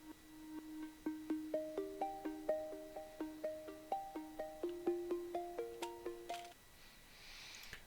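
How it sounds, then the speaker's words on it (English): Arpeggiated synth notes bounce in a steady, even rhythm as a pop production element, repeating plucky tones stepping through a chord pattern for several seconds before fading into a soft wash. "I wrote it out and I added an arpeggiator to it to bounce them around a little bit."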